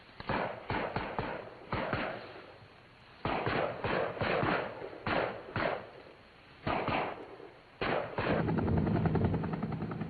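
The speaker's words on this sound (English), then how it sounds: "Gunships launch and are directed to the area by the forward air controller." UH-1 Huey helicopter gunships from 1970 Air Force tactical operations launch, their rotors making a steady, loud blade chop, with rapid bursts of thudding reports cutting in and out through the whole stretch.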